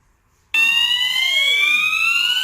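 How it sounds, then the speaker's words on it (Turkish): A Perkotek 12WF wireless home alarm siren switches on abruptly after a moment of silence and keeps wailing steadily with a piercing, high-pitched tone. "direkt alarm ötmeye başlayacak ve ekranımıza bildirim olarak alarmın çaldığı bilgisi gelecektir"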